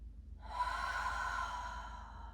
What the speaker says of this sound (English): Perhaps you can have some really long or audible exhales to release some energy here